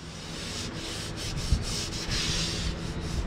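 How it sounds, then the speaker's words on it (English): Steady abrasive sanding of epoxy primer on a 1934 Ford Coupe body with 80-grit paper, a continuous close rubbing hiss with slight surges in intensity and no talking. "I have a little bit more to do in regards to sanding some of the epoxy down"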